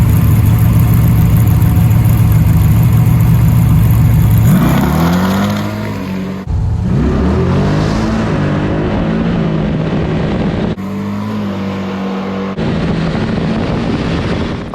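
A street drag race car roars loud and close at full throttle down the eighth mile, its engine note rising through gear shifts before easing off as it lifts and brakes.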